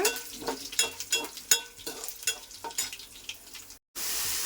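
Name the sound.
garlic and dried red chillies frying in a pan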